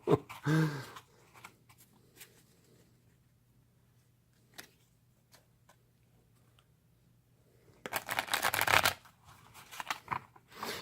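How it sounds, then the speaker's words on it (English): A deck of homemade cards printed on light cardstock gets shuffled in two bursts, a short riffle at the start and a longer, louder flurry near the end, with quiet soft taps and handling between. "because they don't shuffle real well"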